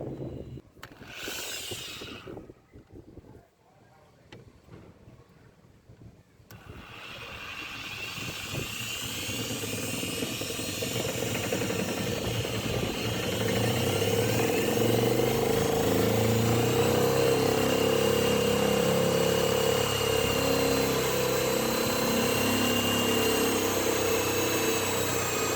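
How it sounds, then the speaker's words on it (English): A drill boring a hole into a plastic drum starts after a few quiet seconds with scattered clicks, then builds into a steady, loud, continuous whirring grind that lasts to the end. "we need to drill one or 1 by 4 inch hole in the drum"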